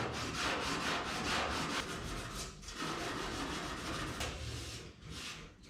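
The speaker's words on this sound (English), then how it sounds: "come on, my little sanding block, which is actually just a hunk of rubber" Rhythmic rubbing strokes of a rubber sanding block scraping back and forth over filler, close and steady.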